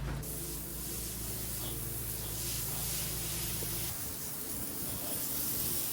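Steady, continuous high-pressure spray hissing close up for the whole stretch, with a low motor drone underneath that drops away near the end.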